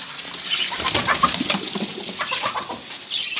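A rooster and chickens drink water at a small zoo enclosure, with soft, close clucks and light watery sipping and shuffling sounds in an irregular, continuous patter.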